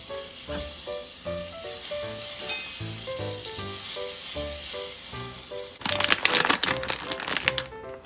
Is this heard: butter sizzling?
yes